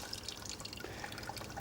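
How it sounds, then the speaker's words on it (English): Water drips and trickles from the drainage tap of a worm breeding bin, a steady soft dripping and splashing that carries on alone throughout at a faint, even level. "I'll open the tap now, just drain any water that I've just put in."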